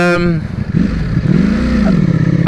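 A 2021 Ducati Panigale V4S motorcycle engine revs and pulls under load on its first ride, a close, loud rising-and-falling drone with a short talking voice at the start.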